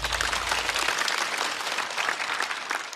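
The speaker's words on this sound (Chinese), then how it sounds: "再次掌声送给小帕" A comedy club audience gives a short burst of steady applause after a stand-up act, dense clapping from a full house throughout.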